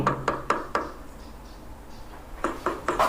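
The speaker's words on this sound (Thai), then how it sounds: "เหมือนเสียงเคาะ" Sharp wooden knocks echo inside an abandoned Thai house, a quick cluster of four raps followed after a pause by another short burst, moderately close in a quiet, hollow room.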